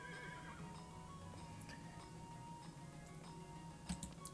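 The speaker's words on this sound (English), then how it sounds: "We're gonna summon the horse." A horse summoned in a video game whinnies and neighs over a steady game-music bed, with some clip-clop hooves and a brief louder flourish near the end.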